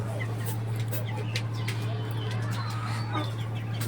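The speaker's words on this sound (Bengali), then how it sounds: "এখানে আরেকটা মুরগি আছে, একা দেখতে পাচ্ছেন" Chickens cluck softly in a backyard coop with pigeons kept nearby, faint intermittent calls over a steady low hum, with only a little quiet talk.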